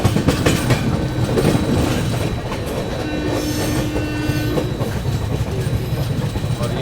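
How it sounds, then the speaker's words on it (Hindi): Mahabodhi Express passenger train rolling along the rails at dusk, a steady close rumble with rhythmic clatter of wheels and a faint squeal partway through, no voices. "और ये चल रही है अपनी महाबोधि एक्सप्रेस"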